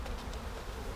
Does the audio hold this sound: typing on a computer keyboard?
no